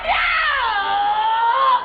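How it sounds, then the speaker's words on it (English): A girl screams in a long, high, wavering cry during an exorcism, loud and close, sustained almost two seconds before breaking off. "the girl screams and fights back but is eventually subdued"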